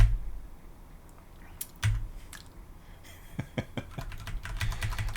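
Keys on a computer keyboard are tapped in irregular bursts, sparse at first and then quicker clusters of sharp clicks, close and fairly quiet with no talking.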